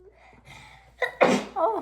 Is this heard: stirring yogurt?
no